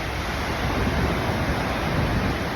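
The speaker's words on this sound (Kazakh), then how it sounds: "Вьетнамдағы Қытай теңізінде кәдімгідей толқын болып тұр" Sea waves break on the South China Sea coast in Vietnam, forming a loud, continuous roar of surf with a little wind buffeting the microphone and no voices.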